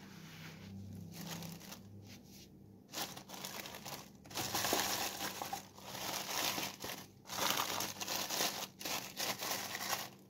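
A plastic bag crinkles and rustles up close in uneven bursts as it is wrapped around salted sardines dressed with cumin and oil. The handling grows louder partway through, and no voices are heard.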